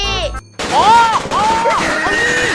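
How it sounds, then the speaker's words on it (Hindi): A loud cartoon firecracker bang bursts in a comic animated scene, followed by whistling, swooping effects and a cartoon voice. "अरे ये धमाका कैसा?"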